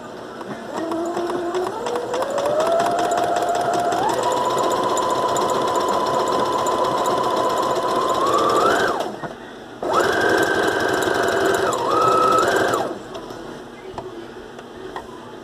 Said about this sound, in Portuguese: A minha máquina faz o arremate com 3 pontos no mesmo lugar, tá?